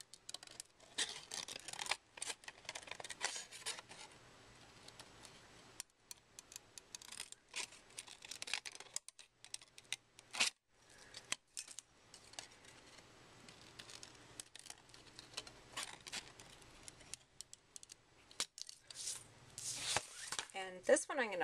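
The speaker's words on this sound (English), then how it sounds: "now we're going to fussy cut the outside" Scissors fussy cutting around a paper craft piece decorated with alcohol ink, quiet irregular snips and paper rustles spread across a long stretch, with occasional talking.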